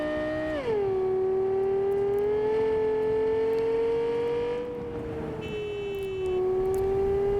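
A car in Cyberpunk 2077 drives along the bay, its engine tone dipping after a brief rev then holding a smooth, steady drone, loud and close, with a few faint game effects near the end.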